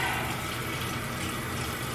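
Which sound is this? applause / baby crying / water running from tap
water running from tap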